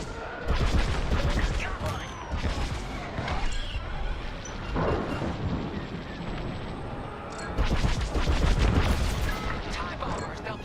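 Rapid blaster fire from starfighters in the Star Wars: Squadrons video game, dense bursts of sharp repeated shots over engine roar and explosions, loud and close, with speech mixed in.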